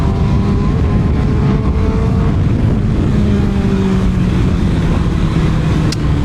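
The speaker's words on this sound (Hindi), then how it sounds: "इंजन की आवाज सुने।" CFMOTO 750 SR-S four-cylinder motorcycle engine running loud and close, a steady droning tone with shifting pitch under heavy wind and road noise, no voices.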